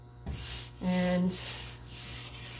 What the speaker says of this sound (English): now I'm going to take some brown wax and the La Petite brush and do some detail waxing